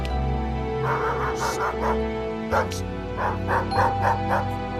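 A dangerous, unpredictable dog barks, yips and whimpers in close, loud repeated bursts, with people talking over it.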